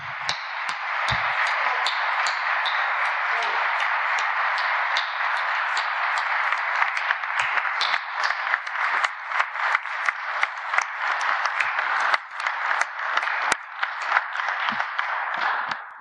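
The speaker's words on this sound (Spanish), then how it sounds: "Yo sí quiero ofrecerles, rendirles de nuevo mi reconocimiento y un aplauso." A crowd at a morning press conference applauds steadily for about sixteen seconds, a dense, even wash of many hands clapping that thins slightly toward the end, with no talking over it.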